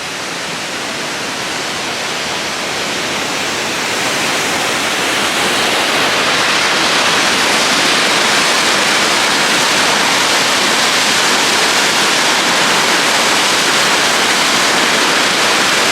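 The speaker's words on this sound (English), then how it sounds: "I don't know if you can hear the waterfall," Queen Mary Falls in Queensland roars as a loud, dense, steady rush of falling water, swelling over the first few seconds and then holding constant with no other sounds.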